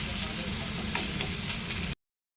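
Banana blossom and fish roe curry cooks down in refined oil with a steady, close frying sizzle and faint stirring scrapes, then cuts off abruptly into silence.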